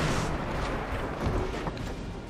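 Battleship main turret salvo in World of Warships, a deep, rumbling boom that swells and rolls on through the whole moment, heavy and muffled, with no talk over it.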